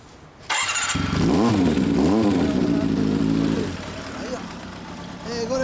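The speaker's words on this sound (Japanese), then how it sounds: "マフラー音聞かせてもらえる" An early-model Kawasaki Mach II S2 350SS motorcycle with a Rooney expansion-chamber exhaust fires up close by and revs twice in quick swells, then settles into a rough, loud idle.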